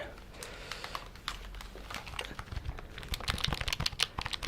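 A computer keyboard handled and tapped in a role-play computer repair scene, close, crisp clicks and rustles growing busier toward the end, with soft speech in places.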